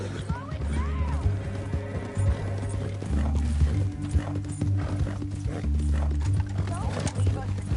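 Horse hooves clip-clop in a steady rhythm in Red Dead Redemption 2, with a riding scene where people talk over the hoofbeats and a horse whinnies.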